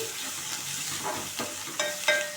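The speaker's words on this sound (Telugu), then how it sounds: "నేను దంచి పెట్టుకున్న లవంగాల పొడి అది కూడా వేసి ఒక సెకండ్ ఫ్రై చేసుకోండి" Onions frying in oil in a home kitchen with ground clove powder added for egg pulusu, a steady soft sizzle with a few stirring scrapes and brief clinks, fairly quiet and close.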